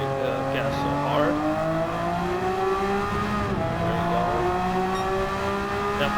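A Subaru WRX Gr.B road car in Gran Turismo 7 accelerates hard, its engine note loud and continuous with climbing, shifting harmonics that dip and rise again through gear changes.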